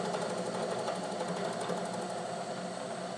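A milling machine takes a light ten-thousandths cut across a brazed, worn slot in a cast-iron arbor press part. It gives a steady, close whirring hum with a fast rhythmic pulsing from the cutter, and no talk.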